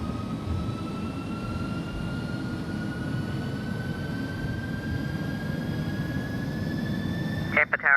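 Airbus A300 jet taking off in the flight simulator X-Plane 11, a steady engine roar with a rising whine throughout, ending in a brief burst of clatter.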